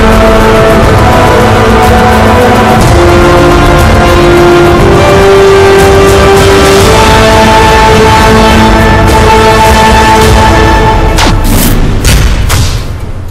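A Ducati Panigale V4 S revs hard and loud, with rising and falling engine pitch, booming bursts and crackling pops near the end.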